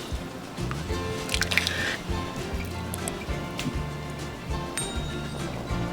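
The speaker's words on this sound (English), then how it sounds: "to get the rice down into the pot so the peas mix right in there" Rice and peas being stirred in a pot for Jamaican rice and peas, with soft wet squishing and occasional dripping close by, steady throughout with no talking.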